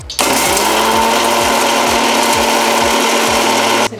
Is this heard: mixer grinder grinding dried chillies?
yes